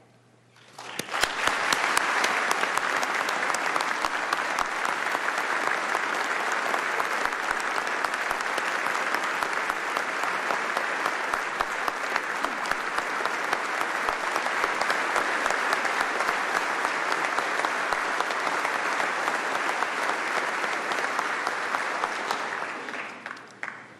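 A large audience applauds steadily for over twenty seconds at Iowa Governor Reynolds' 2022 Condition of the State Address, welcoming the Mueller family; the dense, even clapping swells in quickly, holds loud throughout, then stops abruptly.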